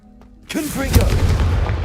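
A Confringo fire spell from Hogwarts Legacy erupts after a quiet start into a loud, booming blast that rolls on with a rumbling, crackling tail.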